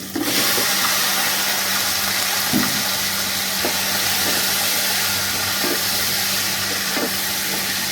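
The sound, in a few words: chicken frying in pan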